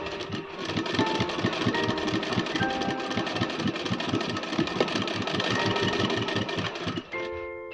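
A sewing machine stitches a fabric frock belt with a fast, steady mechanical chatter that runs continuously and close, then eases off near the end.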